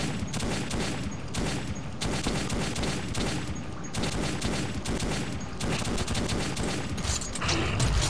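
Sustained gunfire in the video game Metro 2033, a dense loud volley of rapid shots filling the whole stretch without pause, with no voices over it.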